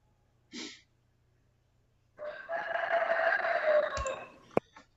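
A rooster crows once in a long, strained call lasting about two seconds, faint and distant, heard during an online class, preceded by a brief breathy sound and ending with a small click.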